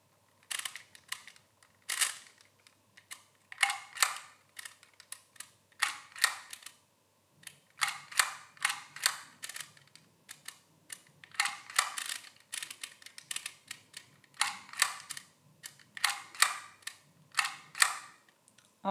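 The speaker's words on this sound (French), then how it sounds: "on va tourner la roulette pour sélectionner la lettre que nous décidons d'imprimer" Embossing label maker being worked by hand, its wheel turned to pick letters and the handle pressed hard to punch them, giving repeated crisp mechanical clicks and clacks in uneven bursts, close and alone with no talking.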